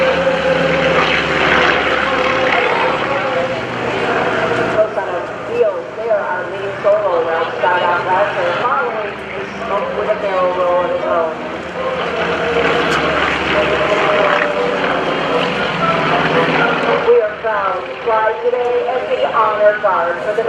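Propeller planes of the Trojan Horsemen aerobatic team fly in trail at an airshow, their engines droning loud and steady throughout while an announcer speaks over the public address.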